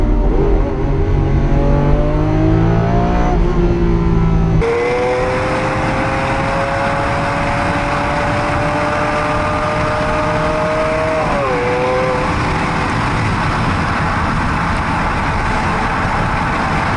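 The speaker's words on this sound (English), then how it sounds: "I could hear the engine and I hear a lot more in the cabin. It's a bit noisier." Lamborghini Aventador SV V12 engine droning loudly from inside the cabin, its pitch climbing steadily through a long pull before a shift and further revving, with no talk.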